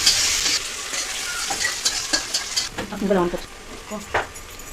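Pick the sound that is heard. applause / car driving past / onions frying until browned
onions frying until browned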